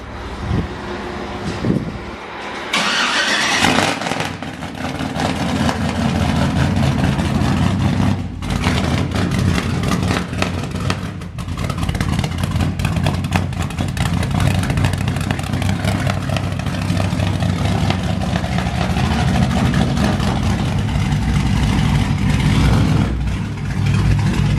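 A 1986 GMC Sierra square-body truck with a swapped LS V8 cranks, fires up with a roar, then settles into a loud, steady, rumbling idle close by for over twenty seconds, no talking.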